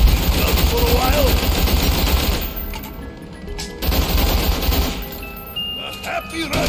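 Rapid bursts of automatic gunfire fill a zombies-mode video game round in Shangri La, the rattling shots dense and loud with short pauses, while a player talks over parts of it.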